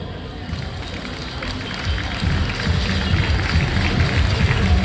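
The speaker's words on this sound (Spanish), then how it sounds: "Por favor, reciban con un fuerte aplauso a nuestro guitarrista" Concert audience at a town festival applauding and cheering for a flamenco guitarist, a dense wash of clapping that swells louder after two seconds and keeps going steadily.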